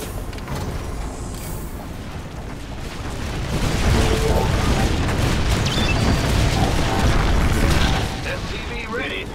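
Explosions and gunfire in the StarCraft 2 video game: dense, continuous booms and bursts that swell louder midway and hold, with in-game voice lines over the battle.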